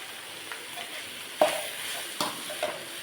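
Chicken fried rice with egg is stirred in a hot pan: a steady sizzle runs throughout, broken by about three distinct scraping strokes of the spatula.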